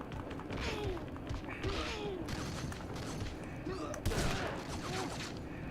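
Enemy gunfire in a PS2 video game crackles in dense, overlapping bursts, steady and fairly loud, with heavier thumps scattered throughout the stretch.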